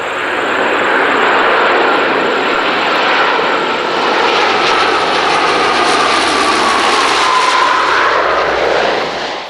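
Lockheed P-3K Orion maritime patrol aircraft of the Royal New Zealand Air Force, its turboprop engines droning loudly and steadily throughout with a faint rising whine, no voices.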